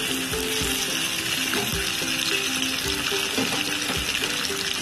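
Cardamom pods and fennel seeds fry in hot oil, giving a steady, loud, close sizzle with faint crackles and light stirring throughout, with no voices.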